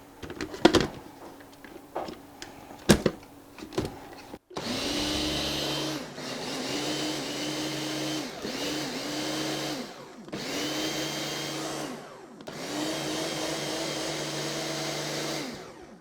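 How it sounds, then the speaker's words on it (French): A blender grinds almond powder for macarons in several loud whirring bursts of a couple of seconds each, separated by brief pauses, after a few scattered knocks and clicks at the start. "On va la mixer pour obtenir une poudre fine, mais pas trop non plus."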